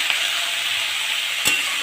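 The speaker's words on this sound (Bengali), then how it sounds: "এখানে ফুলকপি আলু দিয়ে ভাজা করছি, ভাজি" Cauliflower and potato fry in a pan with a continuous close, bright sizzle, steady throughout apart from a short louder crackle near the end.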